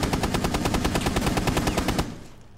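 Rapid automatic gunfire in the Rainbow Six Siege video game, a sustained burst of evenly spaced loud shots fired through a floor, lasting about two seconds before cutting off into a brief fading tail.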